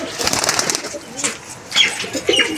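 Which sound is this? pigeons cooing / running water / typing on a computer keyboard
pigeons cooing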